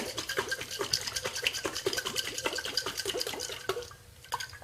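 A closed jar of olive oil salad dressing being shaken hard, giving a steady run of quick, rhythmic sloshing rattles close by that ease off near the end, with no talking.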